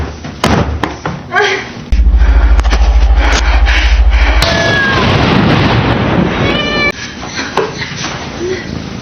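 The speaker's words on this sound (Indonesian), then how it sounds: "Melihat kucing Ireng mendekat" A black cat in a horror film scene meows and caterwauls loudly amid heavy thuds, a slam and dramatic film sound, with a voice speaking over parts of it.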